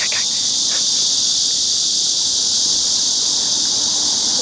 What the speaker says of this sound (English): Can you guys hear all the cicadas?